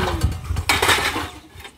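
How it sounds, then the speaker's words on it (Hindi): Metal household utensils, pots and a bucket rattled and handled up close, with clinks and a burst of clattering midway. "इतने सारे बर्तन हैं,"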